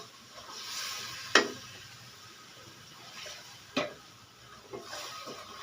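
Spices cook in a pan with turmeric while a utensil scrapes and knocks against it a few times, over a soft, steady sizzle.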